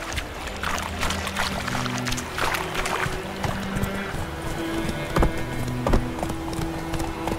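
Roach the horse's hooves clip-clop steadily on a path in The Witcher 3, mixed with ambient game sounds and music, with no voices over them.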